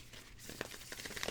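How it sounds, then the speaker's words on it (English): Wild Unknown Tarot cards being shuffled by hand, a soft close riffling and crinkling rustle with light papery snaps, quiet and alone. "cards are shuffling really well"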